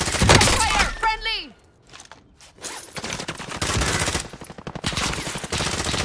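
Video game gunfire: rapid automatic bursts and volleys crackle loudly at close range, broken by a brief whistling, falling tone and a short lull, while voices shout over the shooting.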